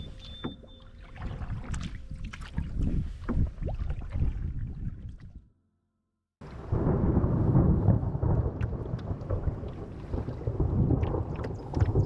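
Deep rolling thunder from a lightning strike rumbling loudly outdoors in the Wabakimi wilderness, wind buffeting the microphone, breaking off briefly before a second heavy, sustained roll.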